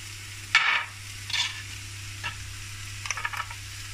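Salmon in a hot pan, seasoned with garlic, chili and dried dill, giving a few bursts of sizzling and stirring between quieter stretches, close and moderately loud over a steady low kitchen hum.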